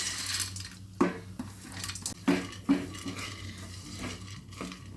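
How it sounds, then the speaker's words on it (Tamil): Fried nuts and dry fruits for laddu stirred together in a metal pan or bowl, with several sharp clinks of a spoon against the vessel over soft scraping and faint sizzle. "இப்போது இதெல்லாம் வந்து நம்ம ஒன்றா மிக்ஸ் பண்ணிக்கலாம்"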